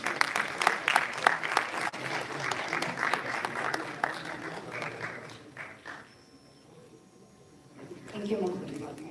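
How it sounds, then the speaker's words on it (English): An audience at a valedictory session of the CICTN-2025 conference applauds in a steady burst of clapping for about six seconds, then fades to a quiet room before a voice begins speaking. "Please clap all of you."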